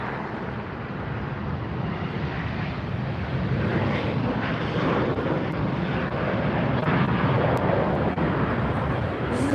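Jet airliners arriving on the LAX runway at sunset with reverse thrust engaged, a steady broad roar that swells slightly over the clip, heard from a distance amid wind noise.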